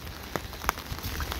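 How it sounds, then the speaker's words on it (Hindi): Rain falls steadily on surfaces at Zojila pass near Ganganagar, a dense patter with a few sharper drops standing out, close and continuous, no talk. "बारिश हो रही है"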